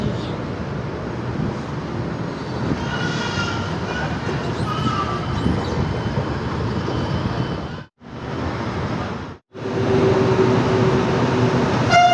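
Steady, loud rumble of a light rail train in motion, with rolling wheel noise and brief dropouts, a faint voice or two mixed in.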